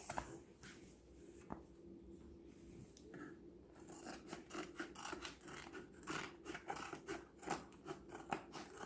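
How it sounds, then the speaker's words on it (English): Scissors snipping through excess heat transfer vinyl, a run of quick close cutting and rasping strokes that grow busier and denser after a quieter start, with no talk. "And then you'll take your scissors"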